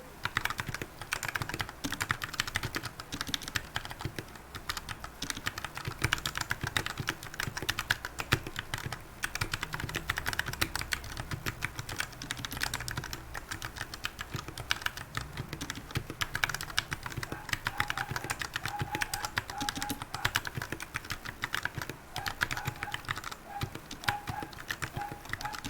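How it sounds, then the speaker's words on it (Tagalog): Steady, continuous typing on a Royal Kludge RK84 mechanical keyboard fresh out of the box, dense clacking keystrokes close to the microphone that keep up an even pace throughout, with no talking. "this is the typing sound test of the Royal Kludge RK84"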